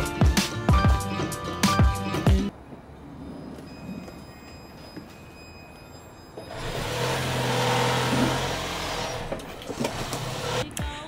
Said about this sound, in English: I'm gonna drive onto them once I lay it right in front of the car.